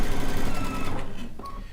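Sewing machine stitching a serpentine stitch through the layers of a rag quilt, a fast close rattling whir that slows and stops near the end.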